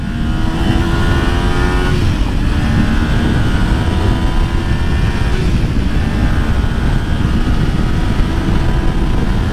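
Kawasaki Ninja 400 motorcycle pulling hard in third gear on a highway, with a loud continuous engine roar climbing in pitch under heavy wind rush, recorded close from the rider's position with no talk.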